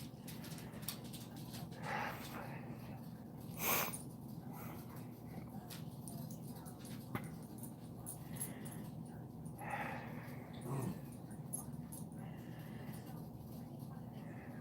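Dogs whimpering and snorting to be let outside on a cold, snowy day, faint soft whines and sniffs scattered over a steady indoor hum, with no talk.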